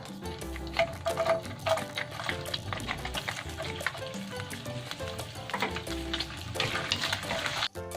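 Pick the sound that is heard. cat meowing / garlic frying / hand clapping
garlic frying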